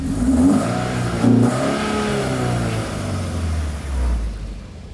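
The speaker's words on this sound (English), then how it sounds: "Give it a rev." A nearby car engine revs up and down in a few surges, loud and throaty, with no voices.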